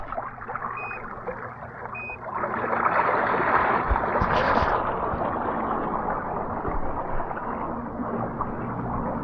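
iGarden Jet X Pro portable swim jet churning pool water at level 2, a steady broadband rush that swells louder after a couple of seconds and holds, with splashing and a brief burst near the middle.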